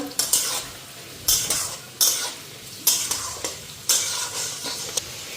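Beans and carrots fry with cashews, raisins and bay leaf in a pan, a low sizzle under about six sharp scraping stirs of a metal spoon at a steady, unhurried rhythm, close and fairly loud, with no talking.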